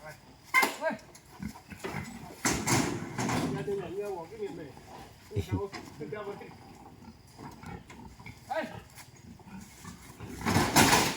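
A dog howls in drawn-out, wavering cries mixed with barks and animal noises, while people talk loudly around it in a busy outdoor setting.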